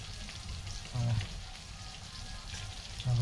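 Rice flour bhakri cooking on a hot iron griddle in a tribal home kitchen, giving a steady soft sizzle and crackle throughout, with two brief louder low thumps near the start and end.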